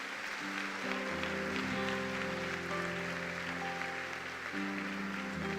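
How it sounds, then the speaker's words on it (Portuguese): Congregation applause for Jesus during an evangelical church service, a steady wash of clapping running under sustained keyboard chords from the worship band throughout. "Dê um aplauso bem forte a Jesus."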